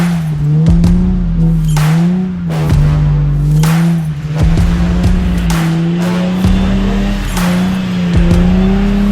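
A car doing donuts, its engine droning and revving steadily while the tires squeal again and again in loud bursts, close by and with no speech.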